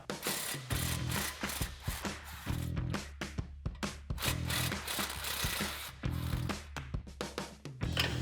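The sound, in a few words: 14mm socket with extension removing exhaust spring bolts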